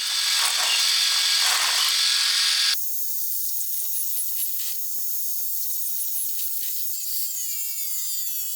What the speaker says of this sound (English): Corner holes are drilled, and the shapes are cut out using an angle grinder.